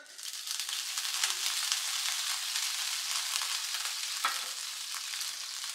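Water splashed onto a hot kadai hisses in a steady, close, broadband sizzle that holds level throughout, with a brief scrape near the end as the pan is wiped.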